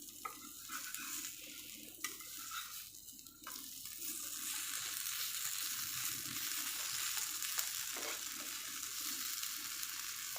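Ridge gourd (janhi) pieces frying in oil, with a soft, continuous sizzle that grows steadier after a few seconds, faint and close, with small clinks and no talk.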